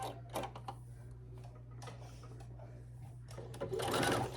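A sewing machine back stitches along a tote bag seam in short, quick mechanical bursts, ticking close and clear, with a longer run at the end.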